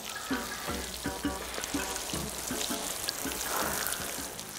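Collected rainwater splashing steadily onto a garden as it is watered by hand, a continuous close hiss with rhythmic pulses of pouring, no talk.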